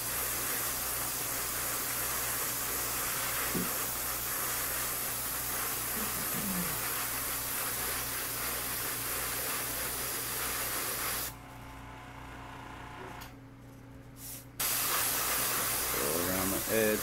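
An airbrush sprays paint onto a model in a steady, close hiss that drops away briefly near the end before resuming.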